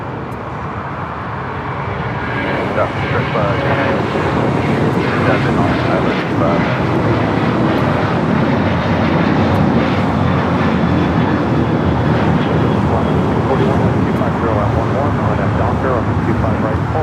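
A passenger airliner in distinctive livery rolls past on runway 25 right at LAX, giving a loud, steady broadband engine roar that swells after the first few seconds and stays strong throughout, with faint radio chatter beneath.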